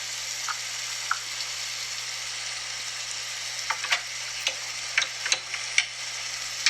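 Steady frying sizzle of aloo curry in a pan as grated coconut is stirred in, with a spoon scraping and clinking against the pan in scattered bursts; no talking.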